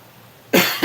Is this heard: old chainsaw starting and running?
no